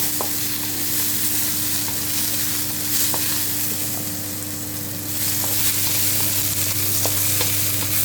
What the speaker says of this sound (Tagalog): at isunod na natin ang ating sibuyas. Gisa-gisa lang. Konti lang ang ginamit nating mantika